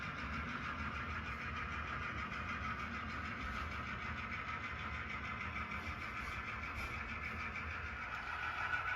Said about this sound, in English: And now the train is entering Mondovi.